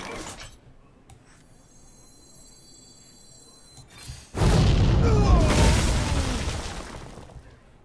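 A flame strike spell explodes in the Hearthstone card game, a sudden loud burst that roars and crackles for several seconds after a quieter stretch of game chimes.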